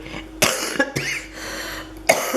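A few sharp, close coughs in quick succession, separated by short pauses, with a throaty rasp between them.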